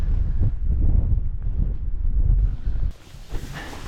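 A tent on the Isle of Mull flaps and buffets in strong wind at a wild camp, with heavy low rumbling gusts against the microphone that drop away abruptly near the end, leaving lighter rustling.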